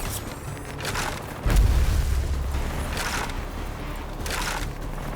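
A heavy, deep boom from an exploding enemy in the video game Rage 2 hits sharply and then trails off into a low rumble, surrounded by bursts of bright hiss and crackling game noise.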